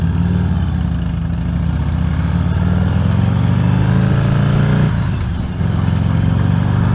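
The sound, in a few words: motorcycle riding on the road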